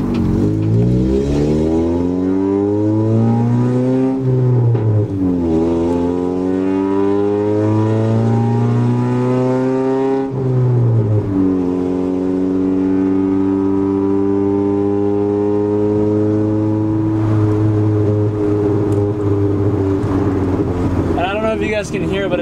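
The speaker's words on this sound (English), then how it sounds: "The car is fully warmed up and it's idling at 1900." A fully warmed-up car engine idles high at about 1900 rpm, a steady close droning hum whose pitch sags briefly a couple of times before settling again.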